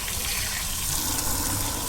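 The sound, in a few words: water from a tap while bathing a dog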